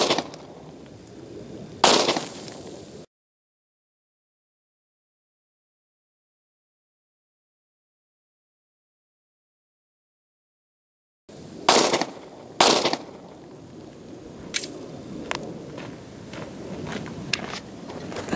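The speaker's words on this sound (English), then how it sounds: "Orange soda versus the Glock 22C 40 cal." Glock 22C .40 caliber pistol fired outdoors at a 2-liter orange soda bottle: one sharp, loud report, a long pause, then two more close shots followed by scattered light clicks and rustle.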